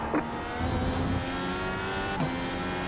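Race-car engine drone from an IndyCar in iRacing at Interlagos, with steady harmonic whine throughout as a slow car passes on the left, plus brief pitch swoops near the start and end, moderately loud with no talk.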